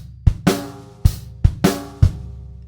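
A drum kit plays one shuffled bar, with crisp, close hits in a bouncing, uneven rhythm and no talk.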